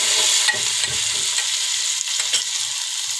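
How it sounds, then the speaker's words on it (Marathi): Green chilies frying in hot oil for a Marathi buttermilk kadhi, a continuous bright sizzle with a few soft spoon scrapes and knocks against the pan. "त्याही छान अशा तेलामध्ये तळून घ्यायचं, जेणेकरून कच्चेपणा जाईल त्याचा"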